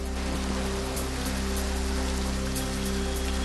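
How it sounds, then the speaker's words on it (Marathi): Heavy unseasonal rain pours down in Pune, a dense, continuous hiss of rainfall on surfaces, steady and loud, with a low electrical hum underneath and no voices. "पुण्यामध्ये जोरदार अवकाळी पाऊस, ढगांच्या गडगडाटासह सोसाट्याचा वारा आणि जोरदार पाऊस."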